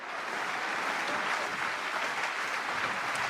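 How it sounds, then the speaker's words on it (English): Steady, even applause from a group at a live online tester-career session, a continuous wash of clapping at moderate loudness with no talk over it. "Let's get the applause"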